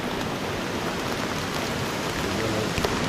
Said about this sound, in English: a whole lot of rain fall out here guys